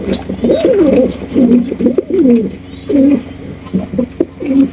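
Pigeons coo repeatedly in low, throaty bursts, close by, with short pauses between calls.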